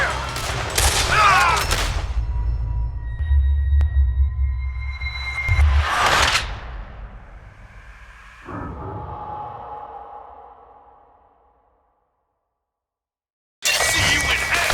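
Gunfire in Red Dead Redemption 2 in loud bursts, then trailing rumble and a fade into near silence before another sharp loud burst at the end.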